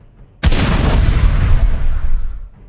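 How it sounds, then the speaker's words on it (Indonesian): A single energy-blast explosion in an animated fight bursts in suddenly with a loud, sharp boom, then a roaring, crackling rumble fades out over about two seconds. "Gumpalan energi itu meledak."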